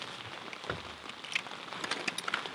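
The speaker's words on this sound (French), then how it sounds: "La pluie n'a pas cessé depuis le début des recherches." Rain falling outdoors during a river treasure search in France, a soft, steady patter of drops with scattered nearer splashes, faint and uneven.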